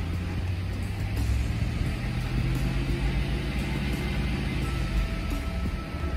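A 2011 Chevy Suburban engine held at full throttle, giving a loud, steady, continuous drone that fills the whole stretch without clear peaks or pauses.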